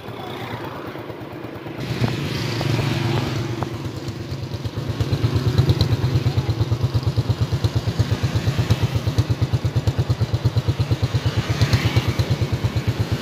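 Yamaha motorcycle from 2010 idling, then its engine revved up and held at a steady rapid throb, close and loud, with mechanical clatter throughout and no talking.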